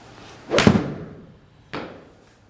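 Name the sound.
golf shot hitting Callaway Chrome Soft golf ball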